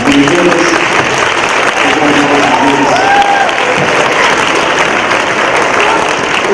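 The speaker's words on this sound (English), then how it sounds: "Let's do a round of applause not only for the fifth graders" Audience at an elementary school spelling bee applauding loudly and continuously for several seconds, a dense wash of clapping from a crowd of parents.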